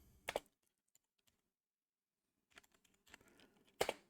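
Quick bursts of computer keyboard typing as a terminal command is entered, a short cluster of clicks, a long quiet pause with a few isolated taps, then another run of keystrokes ending in a firm key press.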